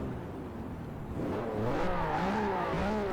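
A car engine in the video game Forza Horizon 4 revs up loudly to 10,000 rpm and climbs in pitch, rising through several gears in a sustained, close roar.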